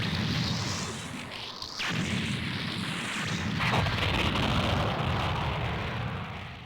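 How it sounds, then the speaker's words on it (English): Explosions in the Mobile Suit Gundam video game come as a continuous rumbling roar with two swelling bursts and whooshes, held at a moderate level with no pause. "The perfectly spherical explosions warm my engineering heart."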